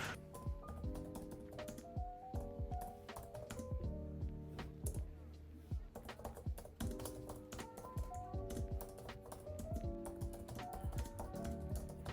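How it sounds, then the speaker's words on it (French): Fingers type on a keyboard accessory for an iPad Air, giving a quiet, steady stream of soft key clicks with irregular rhythm, close by and alone. "Quand on tape sur le clavier, l'expérience est quasi identique à celle du Magic Keyboard d'Apple."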